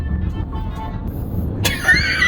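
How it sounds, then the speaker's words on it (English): Stuck in slow Los Angeles traffic: a steady low engine and road rumble from idling and creeping cars, with a brief brighter noise near the end. "So we're still stuck in traffic."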